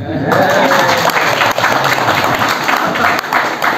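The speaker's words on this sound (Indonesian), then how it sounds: "Yang terakhir ini boleh tepuk tangan." Audience applause at a talk or gathering, a dense steady clapping that fills the whole stretch at close range with no voice over it.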